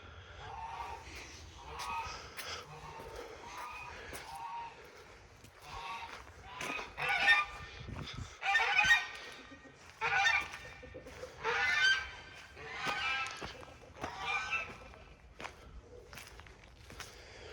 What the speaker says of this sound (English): Don't mind the geese in the back, they're going to be kind of loud.